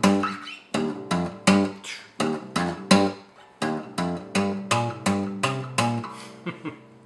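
Muted percussive guitar hammer-ons from the live middle section of a song, a steady run of about a dozen loud, evenly spaced plucked attacks with a short rest, played alone with no voice.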